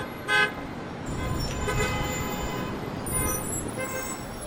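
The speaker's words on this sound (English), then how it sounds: "When it gets crowded, the streets gets crowded, that's all you hear is honking." Car horns honk on a crowded New York City street: one short, sharp toot near the start, then further beeps later, over a continuous rumble of traffic.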